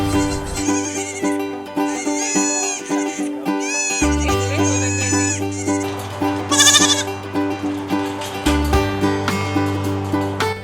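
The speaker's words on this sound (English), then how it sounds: "come meet Tom Tom, come meet some of these goats" Goats at a family farm bleat repeatedly, with loud, wavering cries coming one after another over steady, sustained background music.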